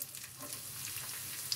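Steady, gentle sizzling of chopped onion and red pepper frying in hot oil, soft and continuous throughout.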